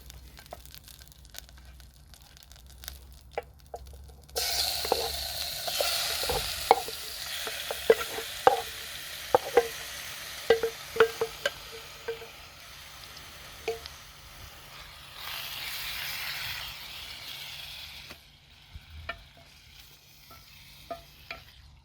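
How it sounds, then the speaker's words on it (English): Marinated chicken fries in reused plantain oil in a one-pot Trangia stove setup outdoors, giving a steady close sizzle and hiss broken by sharp clacks and scrapes of stirring, with no one talking. "we'll fry the marinated chicken first"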